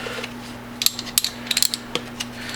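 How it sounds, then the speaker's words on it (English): A go-through socket set ratchet clicking in a few quick bursts of sharp metallic ticks, close and fairly quiet over a faint electrical hum, with no talk. "So it's a ratchet, but it goes all the way through."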